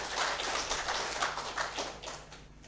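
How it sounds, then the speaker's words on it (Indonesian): Audience applause for the first candidate pair at a 2017 Kupang mayoral and vice-mayoral candidate debate: steady, dense clapping from a crowd that holds for a few seconds, then begins to fade. "kita berikan tepuk tangan untuk pasangan dengan nomor urut 1"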